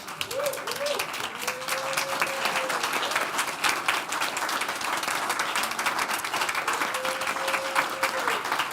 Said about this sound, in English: I think she deserves a standing ovation